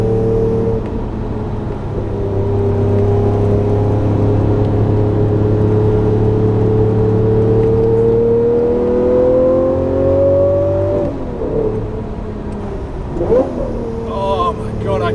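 A Lamborghini LP640 revs hard under acceleration, its loud engine tone climbing steadily for several seconds before easing off with a brief shift, heard from inside the car.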